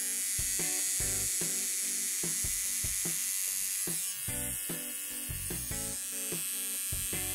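A close electric trimmer-razor buzzes steadily while shaving stubble, with a sustained high whine and rapid repeated cutting crackles across the whole stretch, and no talking.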